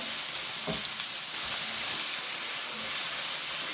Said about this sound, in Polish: paprykę. I troszeczkę podsmażymy.